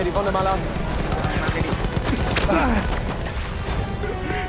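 Rapid bursts of Battlefield 1 gunfire crackle with scattered crashes, explosions and impact sounds, while people talk in Thai over the action.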